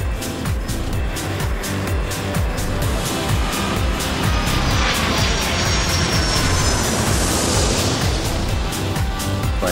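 An airplane in an air traffic control game takes off with a loud, continuous engine roar that swells and thickens midway, dense and close throughout.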